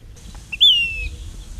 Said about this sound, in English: One is the sage phoebe that's sitting right in the top of an old mulberry tree up here.